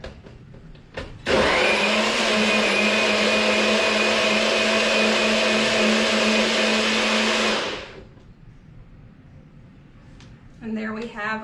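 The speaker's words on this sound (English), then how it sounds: "Put it in our little blender here." A small countertop blender loudly whirs as it blends frozen pineapple with pineapple juice, running steadily for about six seconds before shutting off, followed by quiet room tone and a brief voice.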